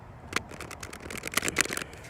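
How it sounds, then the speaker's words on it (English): Close-up shuffling of a deck of tarot cards, with quick riffling bursts and soft papery flicks over about two seconds, with no talking. "one more shuffle"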